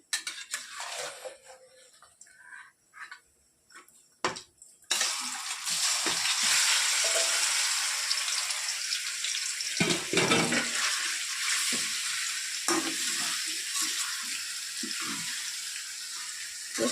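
Loud, steady sizzling of chicken frying in hot oil starts suddenly and continues throughout, with occasional clinks of a utensil stirring in the pan.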